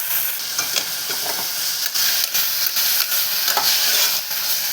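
Prawns fry in a pan with onion, tomato, salt, chili powder and turmeric, a steady loud sizzle broken by repeated scraping stirs of a utensil, with no one talking.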